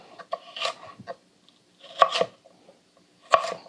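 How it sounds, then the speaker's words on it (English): Knife cutting julienne strips with a rocking motion on a board, three quick bursts of close, crisp chopping taps separated by short pauses, with no talk. "you're going to use your basic rocking motion to create these strips like that."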